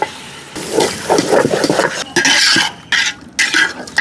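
Meat goes into a pot of cooked-down masala for pakki biryani, with clattering metal utensils, scraping and stirring against the pot and brief bursts of sizzling, all close and loud with no talk.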